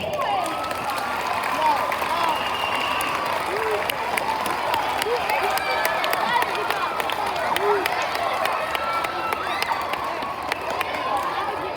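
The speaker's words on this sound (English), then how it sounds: "Can we get one final round of applause for Mr." An audience gives a final round of applause at the finale of a Mr. Popper's Penguins stage show, loud sustained clapping mixed with cheers and children's shouts, with voices calling out over it.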